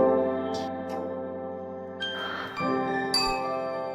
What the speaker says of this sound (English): And this is what Spectral Scaler sounds like.